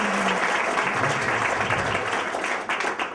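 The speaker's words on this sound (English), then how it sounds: "Give her a huge round of applause." An audience applauds the host at a house gathering, a steady wash of clapping that holds strong for about three seconds before thinning slightly at the end.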